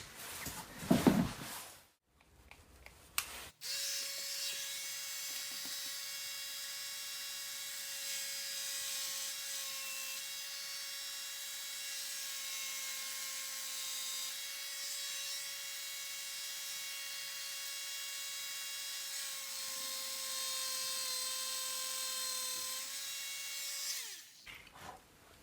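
A small rotary tool gently grinds a Tamiya Mini 4WD car part to size, a steady high whine running for about twenty seconds after a brief handling noise, with a faint lower tone and no talking.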